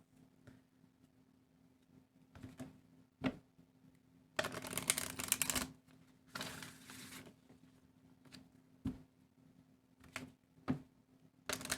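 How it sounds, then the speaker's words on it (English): Several short bursts of tarot card shuffling, one longer riffle in the middle, close and fairly quiet with brief pauses between. "let's shuffle these."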